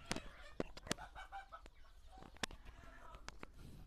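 Chickens of the Sonali breed cluck in a cage at a poultry farm, giving sharp, scattered calls and short bursts at close range over a busy background of more birds.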